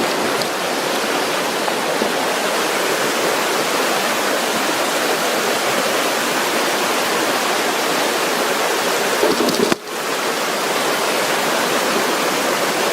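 Water rushes steadily in a woodland stream, a loud, continuous broadband roar heard up close, with a brief dip near the end and no talk.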